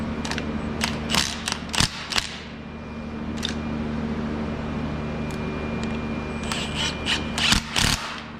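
Bolt on a Honda Civic short shifter being loosened during installation: sharp metallic clicks and clunks arrive in small clusters at the start and end, close by, with a quieter stretch between them.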